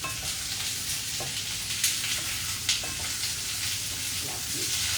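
Food fries in mustard oil on a high flame, giving a dense, continuous sizzle and crackle, with a few sharper clicks and scrapes from stirring and no talk over it.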